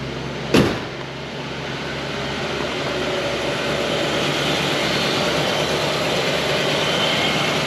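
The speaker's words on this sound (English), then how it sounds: "this engine just runs so strong. Starts right up." A 1967 Ford Mustang engine idles with a steady, rumbling drone after a sharp click at the start.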